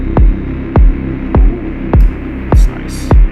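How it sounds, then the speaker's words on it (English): A deep techno loop pairs a ring-modulated, flanged wash of static wind noise with a heavy, booming kick landing about every 0.6 seconds, while brief airy noise bursts flare near the end. "this ring modulation or flanger thing"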